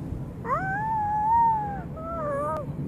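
A young child imitates a monkey with two drawn-out, wavering vocal cries, the first longer and higher, heard fairly quietly over a faint room background.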